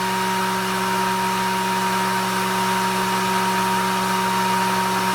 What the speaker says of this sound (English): So I got an air dryer.